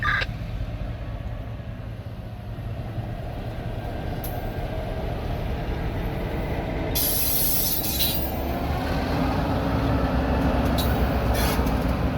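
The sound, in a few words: W&LE freight train moving onto connector track, wheels squealing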